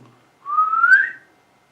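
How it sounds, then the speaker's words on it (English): A person whistles a single rising note for just under a second, clear and close, alone against silence with no talking. "Whistle like a girl."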